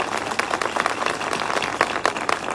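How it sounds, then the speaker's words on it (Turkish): A crowd at an outdoor political rally in Akhisar's Kayalıoğlu neighbourhood applauds with dense, steady clapping, moderately distant and continuous throughout. "Ona kocaman bir alkış rica ediyorum."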